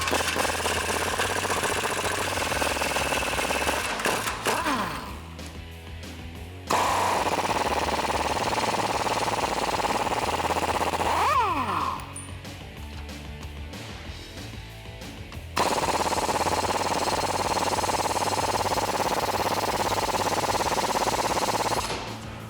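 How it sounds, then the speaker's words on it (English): An impact wrench drives a 22mm socket to remove U-bolt nuts on a 2014-2018 Silverado 1500 during a lift kit install, loud sustained rattling hammering bursts with quieter gaps between them. "We're going to use a 22mm socket to get all 4 of these nuts off."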